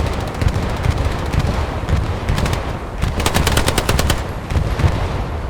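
Sustained automatic gunfire and artillery from the Hell Let Loose World War II shooter, with rapid machine-gun bursts crackling over a dense rumbling battle bed throughout.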